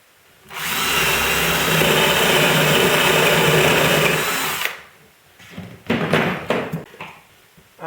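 A power drill spins a spade bit through wood, starting suddenly and holding a loud, even whir for about four seconds before cutting off, then a few knocks and clatters as the workpiece is handled.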